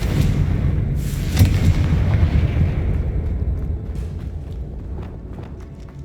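A loud, booming Confringo spell explosion from Hogwarts Legacy bursts at the start and rumbles away over several seconds, with small crackles and pops trailing off.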